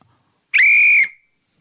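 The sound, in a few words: person whistling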